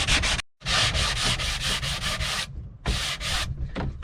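Plywood scarf joints for a wooden boat restoration being sanded, a steady close rasping rub in repeated strokes, briefly stopping twice before resuming.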